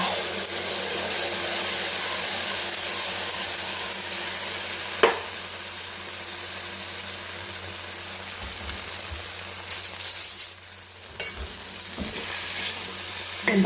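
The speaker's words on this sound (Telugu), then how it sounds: "మిరపకాయలు పల్లీలు వేయించిన బండిలోనే కొంచెం ఆయిల్ వేసి ఈ చట్నీకి పోపు పెడదాం" Oil tempering of cumin, mustard seeds and dried red chillies sizzles in the pan used earlier to roast peanuts, ready to go over peanut chutney. A continuous, even hiss fills the clip, with a single sharp knock partway through.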